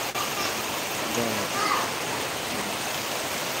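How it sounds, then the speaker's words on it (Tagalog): Steady rain makes a continuous broadband hiss, loud and even throughout, with faint voices underneath. "It's raining."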